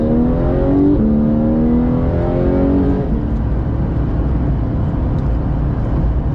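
A Porsche 991.2 GT3 accelerating hard on the Val de Vienne race track, heard from inside the car as a loud, dense engine roar whose pitch climbs steadily, drops at a gear change around three seconds, then continues rising.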